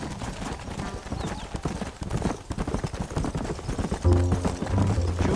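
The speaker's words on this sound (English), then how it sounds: "Come on, horsey." Horse hooves galloping in the video game Red Dead Redemption, a fast, loud, continuous clip-clop close up, with a brief low rumble toward the end.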